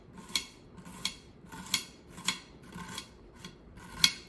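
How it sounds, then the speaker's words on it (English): Knife slicing sweet Vidalia onions for a squash stir fry, a series of about seven crisp, evenly spaced cuts close by, with no voices. "I just kind of like slice these onions"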